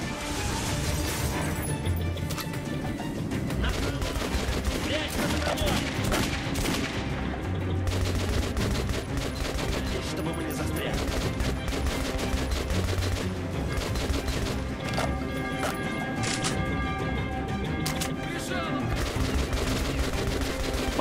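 Gunfire in the video game Metro 2033 Redux, dense and continuous bursts of shots and crashes over a busy game soundtrack, mixed with faint background voices.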